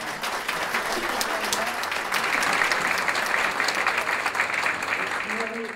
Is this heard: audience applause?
yes